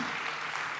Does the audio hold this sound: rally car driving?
no